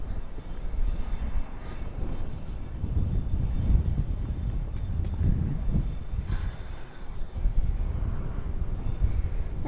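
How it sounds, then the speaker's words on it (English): An Airbus A319 jet at Dallas/Fort Worth airport rumbles steadily at a distance at night, a broad, sustained engine roar with some wind buffeting on the microphone and no speech. "here we have the Airbus A319 from El Paso"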